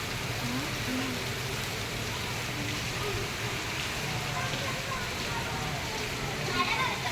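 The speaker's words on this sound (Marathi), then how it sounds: "कसलं भारी पाणी पडतं बघ मला" Steady heavy rain pours down in an even, continuous hiss and patter at moderate level, with no other clear sounds.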